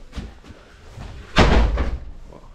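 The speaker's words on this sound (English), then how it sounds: "You have to push hard on this door because of the wind." A heavy ventilation door in a Wieliczka salt mine tunnel, pushed open against the draft: a few knocks and creaks, then a loud, deep slam with rushing air, heard up close and without speech.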